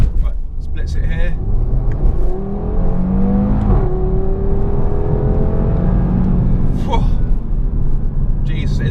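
An Audi TT RS in dynamic mode accelerates hard, its engine note climbing through rising, sweeping pitches with a gear change midway, loud and close over road rumble, while a voice speaks intermittently.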